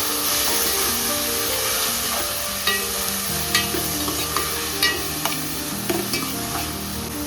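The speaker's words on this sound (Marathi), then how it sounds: "कांदा नीट परतला की टोमॅटो घाला. टोमॅटो सॉफ्ट होईपर्यंत शिजवा." Chopped onion and tomato sauté in a hot pan for dal khichdi, a steady loud sizzle with scraping stirs and occasional sharp clicks of the spatula against the pan.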